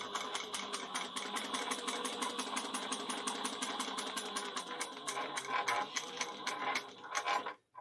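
A sewing machine runs a rapid, even rhythm of needle strokes while back stitching a bag seam, close and steady, then slows and stops near the end.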